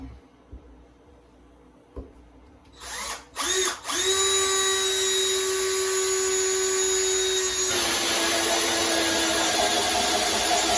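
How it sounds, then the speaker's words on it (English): A power drill starts with a few short bursts, then runs steadily and loudly for several seconds as it bores through concrete board and sheetrock, pitch shifting partway. "I'm just going to drill a hole through concrete board and the sheetrock."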